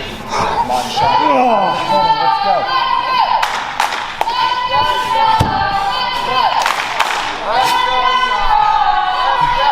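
Wrestling crowd at a Greenfield Wrestling match cheering and shouting loudly and continuously, with children's voices, scattered claps and thuds from the ring mixed in.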